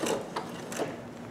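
A Pfaff Creative Vision sewing machine stitches a sequin in place, giving a quiet, close mechanical whir with a few soft rhythmic needle clicks over a brief stretch, no speech.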